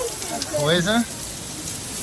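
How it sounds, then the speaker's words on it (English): The Staubbach waterfall in Lauterbrunnen pours down in a constant, rain-like rushing hiss from close behind the falling water, while a person speaks briefly over it. "We're just behind the waterfall, guys."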